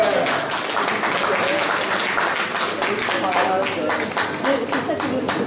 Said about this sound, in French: Ah, on peut applaudir